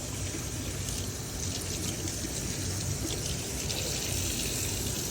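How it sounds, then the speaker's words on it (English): A tube from a Tesla Model 3/Y AC cleaning kit's injector plate is washed under a running sink tap, making a steady, close rush of water that holds evenly from start to finish without speech. "Bring it over to a sink. Just give it a nice little wash."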